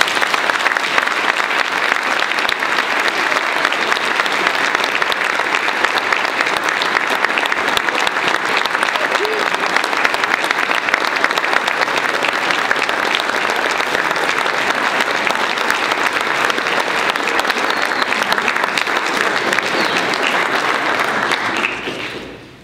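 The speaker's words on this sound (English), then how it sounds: "let's give a huge round of applause for Peter Baum" Banquet crowd at a lacrosse hall of fame ceremony gives a long, loud, sustained round of applause, dense continuous clapping for over twenty seconds before it quickly dies away.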